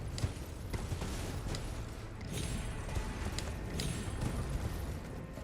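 Horse hooves pounding at a gallop in Elden Ring, a steady rapid clatter that runs the whole time over a dense, rumbling game soundscape.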